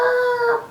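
A voice imitates a rooster crowing, one short loud close cock-a-doodle call that rises and then fades.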